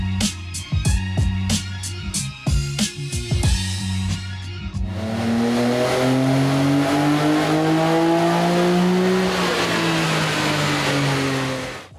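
A Nissan R33 with an RB26 engine on a dyno, testing adjustable cam gears and a Kelford drop-in camshaft, first crackles through sharp throttle blips, then revs in one long, loud pull that climbs steadily before cutting off.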